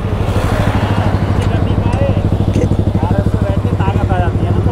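A motorcycle engine sputters and jerks after being filled with a small amount of fuel, giving a loud, steady throbbing pulse close by with ragged surges, while people talk over it.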